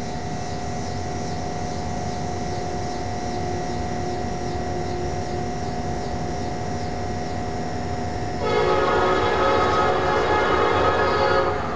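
A Norfolk Southern SD70M-2 locomotive leading freight train H18 passes nearby, its Nathan P5 horn sounding over a steady rumble and wheel noise, which swells louder toward the end.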